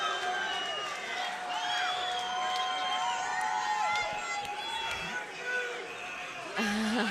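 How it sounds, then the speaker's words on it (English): Crowd at a Legends 3 boxing fight cheering and whooping steadily, loud and near, with shouts rising and falling throughout and commentators talking over it. "This is getting the crowd on their feet, amped up"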